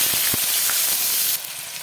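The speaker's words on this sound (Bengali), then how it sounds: "দেবো আরও একটু তেল, ফোড়নে দেবো একটা তেজপাতা, দিয়ে দেবো কেটে রাখা পেঁয়াজ।" Chopped onions and a bay leaf frying in hot oil make a steady, close sizzle and hiss, with a few soft stirring knocks early on and a slightly brighter hiss near the end.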